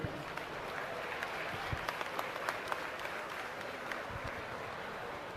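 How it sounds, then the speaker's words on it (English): An audience at a youth swine showmanship class applauds steadily, with dense clapping that holds at an even level throughout and a few sharper individual claps standing out. "Give these kids a round of applause as they exit"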